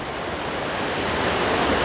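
Steady broadband rush of river water flowing at a fishing spot, continuous and fairly loud with no pauses, building slightly toward the end.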